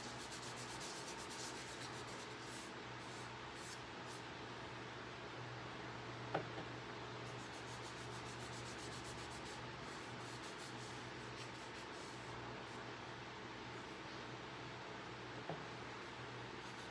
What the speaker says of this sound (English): And rub it over the wood like that